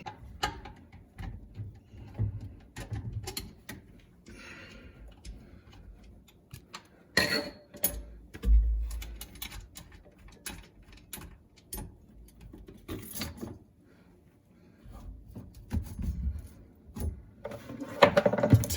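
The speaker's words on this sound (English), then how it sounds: "So now I just need to undo both of these screws and this bracket." Screws being undone on the mounting bracket of a WasteKing L-8000 garbage disposer, giving close, irregular metallic ticks and ratcheting clicks with scraping handling noise and occasional louder knocks.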